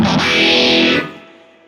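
Electric guitar chord played through an analog multi-effects unit, a phaser feeding into distortion, ringing loud and saturated with a swirling sweep for about a second before decaying away.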